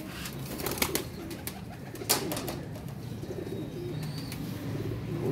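Teddy and red-eyed pigeons coo softly in a loft, a low continuous murmur of overlapping calls with a few sharper flutters or knocks, fairly close and steady throughout.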